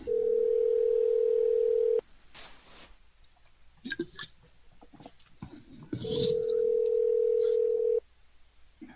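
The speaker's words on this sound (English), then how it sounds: "Okay, let's call him back one more time." A telephone line sounds a steady dial tone, then keypad tones and clicks follow as a number is dialed, and a second stretch of dial tone ends in further clicks.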